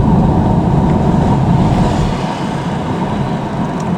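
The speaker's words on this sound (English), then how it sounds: "Sorry for any wind noise, I've got the window open because it's so hot." Wind roars through an open car window on a hot day while driving, a loud steady broadband rush mixed with road noise that eases slightly partway through.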